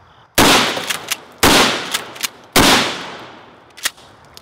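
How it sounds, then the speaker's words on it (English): Three loud, close Mossberg Shockwave shotgun blasts fire at a computer at roughly one-second intervals, each followed by a decaying echo and small clatters of debris, with no talking. "The Mossberg Shockwave can get you into your computer."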